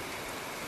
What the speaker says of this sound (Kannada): ಕೊಡಗಿನಲ್ಲಿ ಸಂಜೆ 4 ಗಂಟೆಯಿಂದ ಎಡೆಬಿಡದೆ ಧಾರಾಕಾರ ಮಳೆ ಆಗ್ತಲೇ ಇದೆ